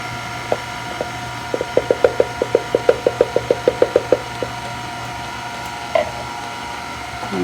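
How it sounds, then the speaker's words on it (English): A whisk taps rhythmically against a measuring cup while stirring flour and cocoa for a chocolate pound cake batter, about fifteen quick, evenly spaced light clicks close by, then quiet. "just kind of whisk it around a little bit and it comes right out."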